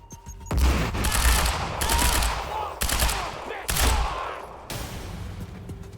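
Rapid bursts of automatic gunfire from a sniper-cover turret in the video game Quantum Break, loud, dense volleys separated by brief pauses.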